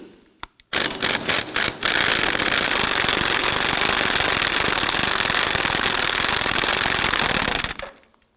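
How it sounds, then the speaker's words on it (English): A 15mm socket on a swivel drives a control arm bolt loose on a 2003-2014 Volvo XC90 3.2L, most likely with an impact wrench: a few sharp bursts, then a long, loud, continuous hammering rattle close up that stops abruptly. "we want to get loosen and remove this bolt using our 15mm socket"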